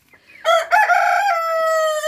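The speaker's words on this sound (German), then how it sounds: "Die Hähnchen." A rooster in a family backyard flock crows once, close and loud, a long drawn-out harmonic call holding steady for over a second and a half, with no voices over it.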